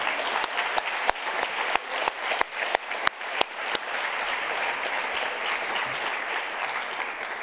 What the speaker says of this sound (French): Applaudissez si vous le voulez.